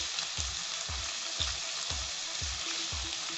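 A chopped large tomato fries with salt in a hot pan, a steady close sizzle with a soft rhythmic scrape or stir roughly twice a second, no voices.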